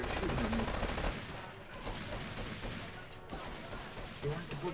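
Enemies open fire on the player in GTA 3, a quiet stretch of rapid gunshots and bursts in the background of the game, with a voice talking over it.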